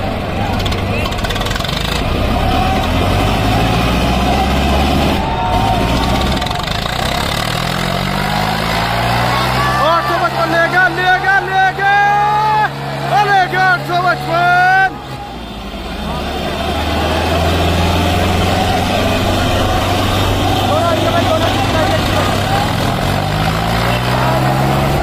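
Swaraj 885 and Sonalika 750 tractors roar under load in a village tug contest, heavy engine drone rising and falling with revving strain in the middle, loud and close, with shouting voices throughout.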